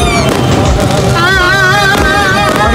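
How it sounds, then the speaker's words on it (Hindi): Fireworks at a 14th August Independence Day celebration at Port Grand, a dense, loud, continuous crackle and bang of bursts mixed with whistles and crowd noise, with no pauses. "और यहाँ पोर्ट ग्रैंड में भी हो रही है आतिशबाजी, ये देखें आप।"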